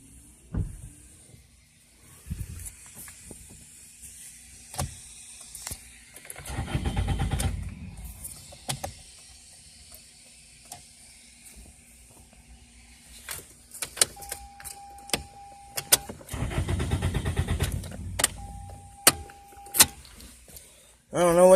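A 2002 Toyota Corolla LE with a crank-no-start fault turns over in two long cranking bursts that never catch, separated by quiet pauses, with warning chimes, clicks and a nearby voice talking.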